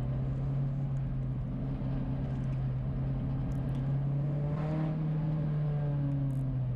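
Race car engine at the Magny-Cours start in a TTE Pirelli Series race, a steady, loud, droning hum that slowly climbs in pitch as it accelerates, with continuous road and wind roar underneath.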